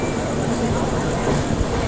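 A train rumbles steadily nearby at crowded Dadar station in Mumbai, a constant low roar with faint rattling and murmuring crowd noise mixed in.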